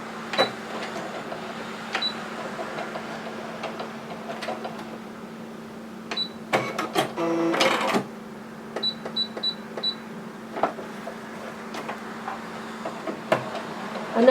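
A Brother SE400 embroidery sewing machine that had been stuck in reverse now stitches forward, giving a steady motor hum with repeated light mechanical clicks and a few louder clunks, close up and with no talking.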